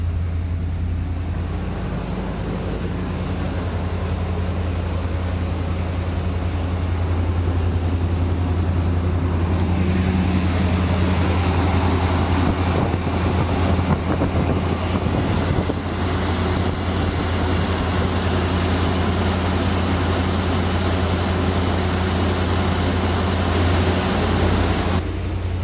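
A Corvette engine idles after a winter cold start with a constant low rumble, while a broader hiss and some handling noise rise partway through. Nobody speaks.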